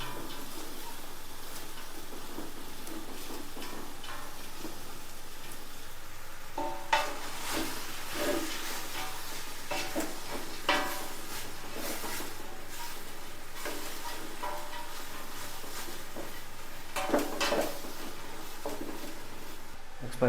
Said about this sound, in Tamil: சேர்த்து எல்லாத்தையும் ஃபுல்லாக மிக்ஸ் பண்ணிவிடுவோம்.